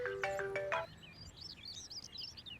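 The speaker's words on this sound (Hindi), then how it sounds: "ये किसका फोन आ गया?" A phone ringtone plays a short run of repeated electronic tones, then stops, leaving faint high chirps and quiet background.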